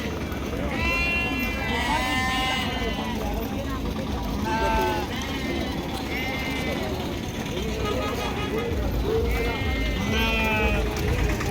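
Several sheep bleat in overlapping bursts at an open-air sheep market, some calls close and loud, others farther off, under constant background voices and market babble.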